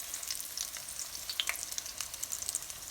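Salmon croquettes sizzle steadily in a frying pan as they are flipped, a dense crackling hiss with sharp pops and spatters throughout.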